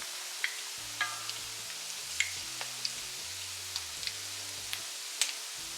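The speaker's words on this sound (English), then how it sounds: "we're gonna go ahead and drop our patties in" Salmon patties frying in a pan give a steady, soft sizzle with scattered crackles and pops, while a low musical bed plays underneath.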